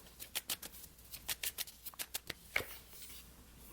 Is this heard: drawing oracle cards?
yes